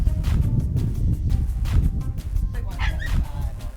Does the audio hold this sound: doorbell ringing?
no